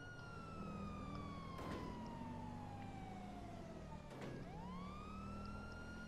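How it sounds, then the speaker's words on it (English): A police car siren in a video game wails continuously with a steady falling and rising tone over a constant engine rumble. "Let's keep my siren on."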